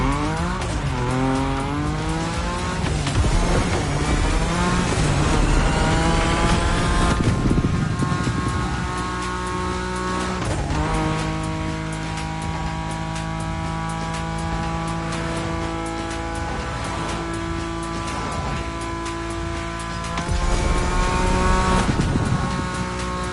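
Cars in The Crew Motorfest video game drift with long, loud tyre squeals over roaring engines, the pitch rising and falling continuously throughout.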